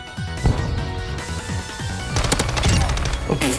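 Rapid automatic gunfire in Call of Duty: Modern Warfare II on the dark Black Gold map played without night vision, loud, close bursts of shots rattling continuously with crashing impacts, no talking.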